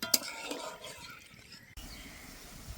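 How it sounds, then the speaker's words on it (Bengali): Water poured into lightly fried mustard paste in a pan for shorshe ilish, a short clatter of utensils followed by a steady, close pouring and sizzling wash with no talk. "সর্ষেটা অল্প একটু কষে নিয়েছি, এবার দিয়ে দেবো জল।"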